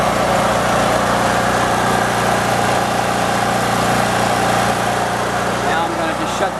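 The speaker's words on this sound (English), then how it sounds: "Nice, quiet generator," Portable generator idling steadily outdoors, a constant mid-pitched engine drone with an even hum that holds at the same loud level throughout.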